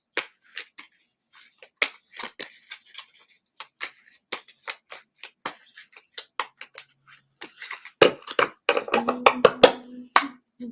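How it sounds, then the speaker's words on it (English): A deck of cards being shuffled by hand, a run of sharp, separate flicks and riffles in an irregular rhythm, close and fairly quiet, ending in a denser flurry of card snaps. "Shuffle this deck."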